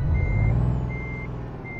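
Reversing beeps from a broken-down truck in Euro Truck Simulator 2: evenly spaced steady tones repeating over a loud, constant diesel engine rumble.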